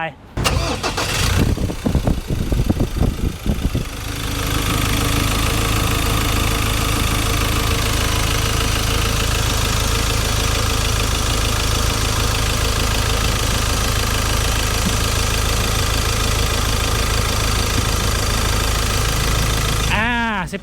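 A 2013 Ford Ranger 2.2 diesel pickup engine cranks and starts, then settles into a steady, loud idle with a knocking rumble as someone talks briefly.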